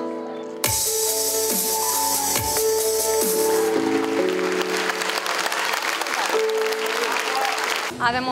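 An audience applauds at a school's 31st anniversary show in Năvodari, a loud steady clatter of clapping that begins abruptly, with music tones and voices underneath.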